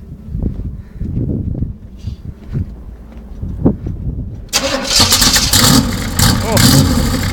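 A 1978 Corvette with side pipes starts and idles roughly with uneven throbbing pulses, then revs hard into a loud, raspy, rising roar; someone speaks briefly near the start.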